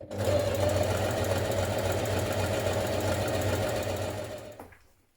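Sewing machine running ease stitching around the top curve of a coat sleeve, a steady close whirring hum with rapid needle chatter that runs for several seconds and then winds down and stops.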